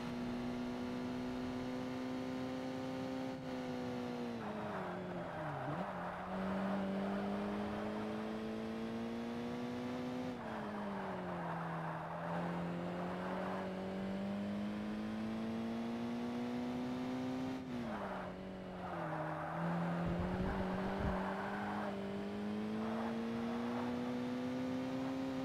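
Rally car in Forza Motorsport racing with a continuous engine drone whose pitch climbs through the gears, dropping sharply at each shift with a few brief bursts of gravel and tyre noise.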